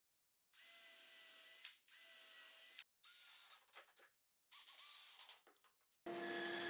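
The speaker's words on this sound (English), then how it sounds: "I drill all the necessary holes and screw the 3 pieces together." A power drill boring holes in plywood fence pieces for a homemade router table, several separate whining bursts of a few seconds each with short pauses between, close but quiet.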